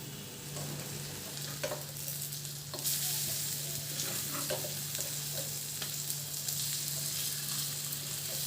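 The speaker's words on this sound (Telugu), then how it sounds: "మసాలా వేగిన తర్వాత ఎగ్స్ ఒక్కొక్కటిగా పెట్టుకోవాలి." Eggs frying in masala in a pan, a close steady sizzle with intermittent sharp spatters and occasional stirring scrapes, swelling a little louder partway through, no voices.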